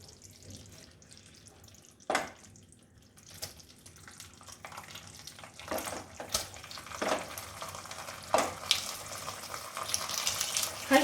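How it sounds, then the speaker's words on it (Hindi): Cooked rice tipped into a pan of ghee and raisins with the heat switched off, soft scattered rustles and light clatter of grains and spoon, a few sharper knocks, close and fairly quiet, no talking. "अब मैं गैस बंद करके ये राइस डालूंगी।"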